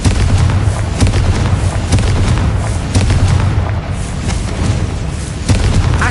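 Loud, dense explosions from the Confringo blast spell in the video game Hogwarts Legacy, with booming impacts and crackling bursts repeating over a continuous roar of combat noise.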